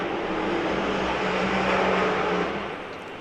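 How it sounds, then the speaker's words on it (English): A top fuel dragster engine roars at a racing event, a loud sustained broadband engine rumble heard in the background that holds steady and then fades slightly toward the end. "You can hear a bit of top fuel in the background."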